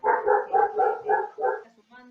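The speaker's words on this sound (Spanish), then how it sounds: "Tenemos también algún perrito que se está sumando, que se suena, que se escucha de fondo." A small dog barks in a quick series of six yapping barks, fairly close and steady in rhythm, heard during an online talk session.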